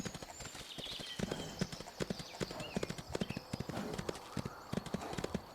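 Hooves clop rhythmically as a horse trots along in the game Windstorm: Start of a Great Friendship Remastered, crisp close footfalls with soft background ambience and a faint whinny-like tone.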